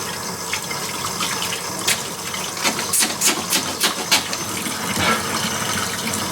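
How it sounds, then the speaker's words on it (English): Hands being washed under a running kitchen tap, a steady gush of water with splashing bursts and uneven surges as the hands move through the stream, close with no talk. "wash my hands for a second"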